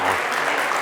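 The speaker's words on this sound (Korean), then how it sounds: "자, 다 같이 박수 부탁드리겠습니다." Sustained audience applause in a lecture hall during a Korean leadership seminar, dense and steady with no breaks, loud throughout.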